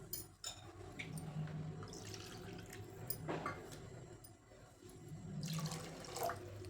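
Water is poured into a kadhai holding two cups of sugar to make syrup for malpua. The pour is a faint, steady trickle and splash lasting several seconds, with soft clinks and no voices.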